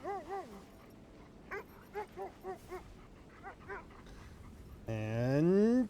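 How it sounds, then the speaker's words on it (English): Sled dogs in the video game Kona II: Brume give a run of short yips and whimpering barks at moderate distance, then one long rising whine at the end, under a quiet background. "Pet all the dogs in front of the sled."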